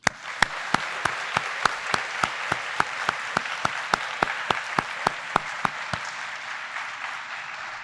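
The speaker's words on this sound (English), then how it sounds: "please join me in giving our honorees a round of applause" An audience applauds honorees at an alumni award reception, giving a steady wash of clapping with a sharp regular ticking running through it.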